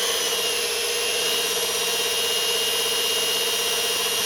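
Electric workshop motor running steadily at about 1170 rpm, a loud continuous whine with a bright high-pitched hum held evenly throughout, no voices.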